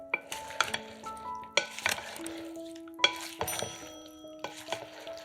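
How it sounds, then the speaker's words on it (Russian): A spoon stirs tomato salad in an oil marinade inside a bowl, giving repeated wet scraping strokes and light clinks of utensil on dish, close and fairly quiet, with no speech. "Все перемешиваем."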